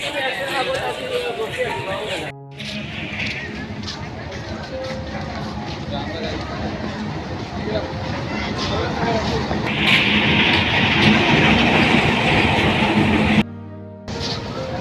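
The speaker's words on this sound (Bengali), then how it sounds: "এই ট্রেনটি আসলে গাইবান্ধায় যাবে।" A passenger train runs on rails between Gaibandha and Rangpur in Bangladesh, giving a steady, loud rumble that swells toward the end, with crowd chatter and voices throughout and a brief cut near the end.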